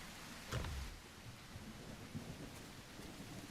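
Rain and thunder in the dinosaur survival game The Isle: a sharp thunderclap near the start rolls off into a low rumble over a soft, steady patter of rainfall.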